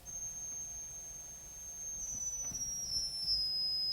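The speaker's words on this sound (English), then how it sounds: "the highest sounds are made by very little pipes," A tiny pipe organ pipe, smaller than a finger, sounds a thin, high, whistle-like steady tone, faint and pure, over a quiet background with a slight pitch shift partway through.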